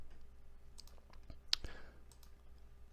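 A computer mouse clicks while someone works in Inventor CAD software; a quiet, close double click stands out amid a few fainter clicks in a hushed room.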